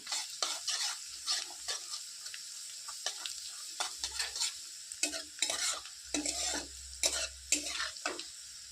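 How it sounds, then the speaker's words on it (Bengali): Garlic, ginger and green chilli fry in a pan until reddened for a butter tadka, with repeated scraping stirs over a steady close sizzle. "এটাকে বেশ লাল লাল করে রসুনটাকে আর আদাটাকে ভেজে নেব"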